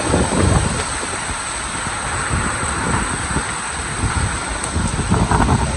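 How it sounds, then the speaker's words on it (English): Strong hurricane wind roars through a wooded property in a steady, loud, gusty rush, with low rumbling buffets and no voices. "Too windy."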